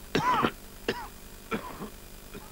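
Three or four short, raspy coughs sound close by, each a brief throaty burst separated by short pauses, in a 1990s TV advert for a cough remedy.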